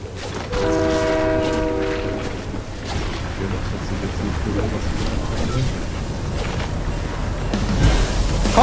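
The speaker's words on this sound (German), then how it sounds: "Komm, komm, komm, der Zug kommt" A train rolls past in the video game Fortnite, a horn-like harmonic blast sounding early over a steady loud rumble of wheels and engine noise that continues to the end, with voices audible underneath.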